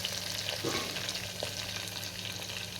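Green chilies and onions sauté in a pan for tomato rice, giving a soft continuous sizzle with occasional stirring scrapes, fairly quiet and with no talk.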